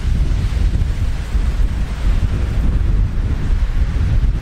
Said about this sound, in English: The wind's still pretty strong, but it did drop down a lot.